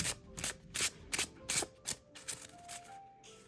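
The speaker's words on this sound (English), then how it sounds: "so I'm going to shuffle these really good." A deck of cards being shuffled, with a series of quick riffling bursts in an uneven rhythm, close and fairly quiet, with no talking.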